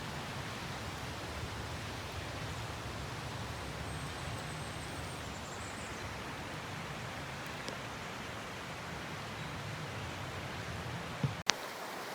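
The Sol Duc River rushes in a steady broadband roar, with constant water noise filling the campsite setting, unbroken for about eleven seconds before a brief knock at the end.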